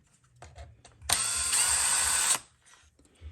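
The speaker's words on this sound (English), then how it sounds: "Just got to take the screws out." A power drill backs screws out of an RC truck (Losi Promoto): one whirring burst of just over a second, close and fairly loud, with light plastic clicks and handling before and after.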